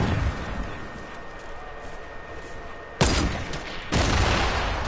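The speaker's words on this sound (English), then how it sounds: "Throwing grenades." Grenade blasts in a multiplayer video game: two sudden loud booms break through a low steady game background, the second about a second after the first, with no voices.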